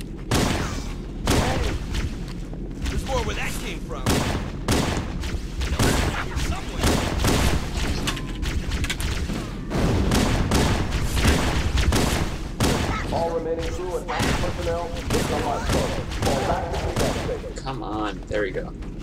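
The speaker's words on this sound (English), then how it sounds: "Covering fire!" Gunfire in the Halo PC game on the Pillar of Autumn level, a dense stream of shots and booms with a loud, steady battle din, heard under spoken voices.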